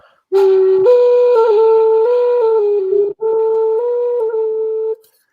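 A breathy bamboo wind instrument plays a slow melody of sustained, steady tones, with a brief pause midway before the tune resumes.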